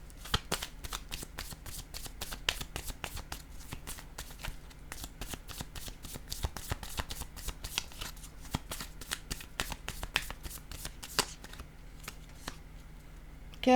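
Tarot cards are shuffled in a long, rapid run of crisp riffling snaps, close and steady, slowing and thinning toward the end, with no talking.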